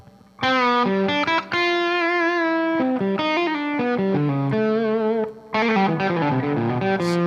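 An electric guitar played through a heavily distorted PRS custom amp rings out with sustained, gritty chords and notes, loud and continuous with brief pauses between phrases.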